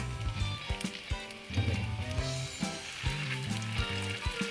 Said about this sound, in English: you'll hear they start to sizzle, which is a good sign